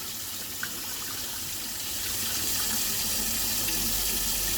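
Tap water runs steadily into a sink while peas are washed for Jamaican rice and peas, a continuous close gush that swells slightly louder partway through.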